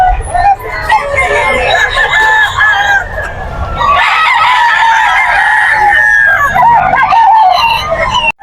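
Bullstag roosters at a Bocaue pet market crow loudly and close, in repeated overlapping calls, with clucking and market bustle around them.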